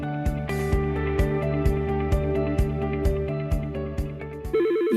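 A telephone rings repeatedly in a steady electronic pattern, loud and alone, with a musical backing and a final bright tonal burst at the end.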